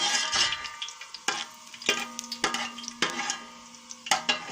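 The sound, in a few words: cumin seeds frying in oil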